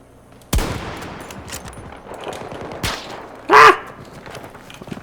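Gunfire in the video game Battlefield 2042: a few loud, sharp single shots spaced seconds apart, with a short burst near the end over quiet game ambience.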